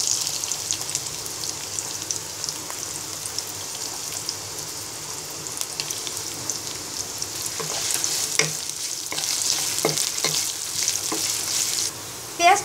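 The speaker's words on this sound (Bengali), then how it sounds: "এবার আরেকটি কড়াইতে তেল গরম করে 1 কাপ পরিমাণ পেঁয়াজ কুচি দিয়ে দিব।" A cup of chopped onion sizzles and crackles in hot oil in a wok, a steady close frying hiss with a few faint clinks and stirring sounds, and no voices.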